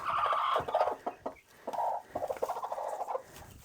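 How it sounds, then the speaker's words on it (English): Broody hens clucking and murmuring in low, continuous, throaty calls, close by, with no talking. "Got two broody hens in here."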